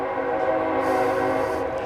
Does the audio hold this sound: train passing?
yes